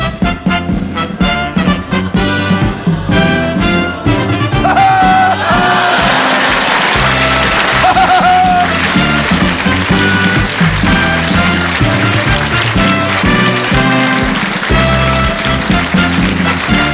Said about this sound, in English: Bloody applause!